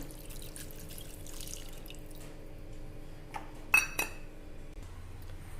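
Water is poured into a chicken rassa curry simmering in a cooking pan, giving a soft steady splash with a few brief clinks of the pot partway through.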